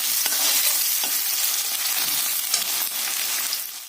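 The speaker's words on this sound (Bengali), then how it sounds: "পেঁয়াজটাকে আমি একটু লাল লাল করে ভেজে নেবো।" Onions fry in oil until reddish brown for chicken kosha, giving a loud, dense, unbroken sizzle close to the pan, steady for the whole stretch with no talk.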